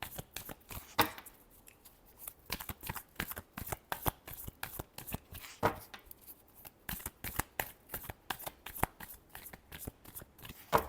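A tarot deck shuffled by hand, its cards riffling in a long run of quick, crisp flutters and soft slaps, close and fairly loud, with no voice over it.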